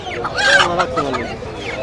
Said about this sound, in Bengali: এই যে কাকা মোরগ নিয়ে আইছে